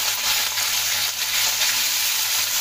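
Pumpkin dropped into hot oil with cumin and green chilli, giving a loud, dense, continuous sizzle that holds evenly throughout, close to the pan.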